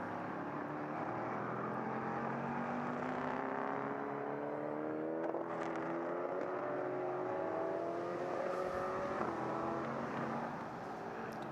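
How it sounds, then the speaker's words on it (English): LMP3 prototype race cars leave pit lane at Mugello, engines rising through gears in a steady layered whine with pitch sweeps as cars accelerate past at moderate distance. "They're going to be the cars to watch in a few seconds' time when these cars emerge out of pit lane."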